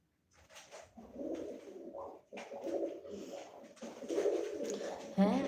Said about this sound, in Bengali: হ্যাঁ, আছে দুটো কবুতর।